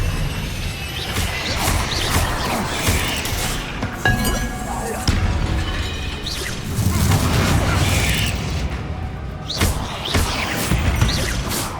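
Crashing, booming spell explosions with glassy clinks and shattering debris in Hogwarts Legacy, layered in a dense, loud, continuous barrage with a voice faintly under the din.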